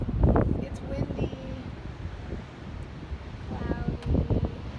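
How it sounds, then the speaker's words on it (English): Wind gusting outside on a cloudy day in New York, heard from an apartment as low rumbling buffets against the microphone, stronger at the start and again near the end. "It's windy,"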